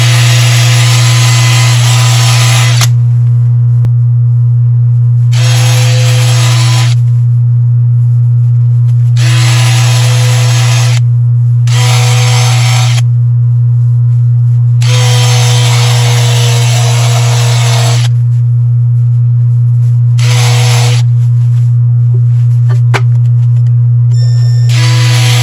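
Fine 800-grit sandpaper pressed against a spinning wood turning on a lathe, a steady motor hum beneath repeated bursts of hissing friction that start and stop as the paper is applied and lifted, close and fairly loud with no talk.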